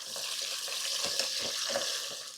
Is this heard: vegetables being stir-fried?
yes